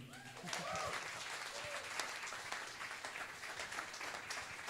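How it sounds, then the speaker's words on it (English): A live audience applauding after a song at an evening music event, steady dense clapping across the whole stretch, fairly faint, with a voice briefly heard over the start. "Can we just give him another round of applause?"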